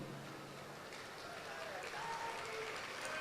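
Audience applause at a religious gathering in India, a broad steady wash of clapping filling the space throughout, with a voice audible under it.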